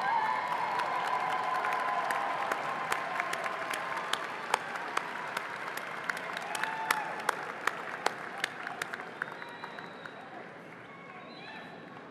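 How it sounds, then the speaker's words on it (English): Graduates at a university winter commencement applaud their loved ones in a large hall, a broad, sustained roar of clapping with sharp individual claps standing out, gradually thinning and fading near the end. "give them a round of applause for all they've done to support you"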